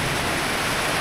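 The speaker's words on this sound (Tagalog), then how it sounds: "Mga man, tingnan nyo, lakas na ng ulan." Heavy rain pours down in a dense, unbroken roar of wide hissing noise, loud and close with no pauses.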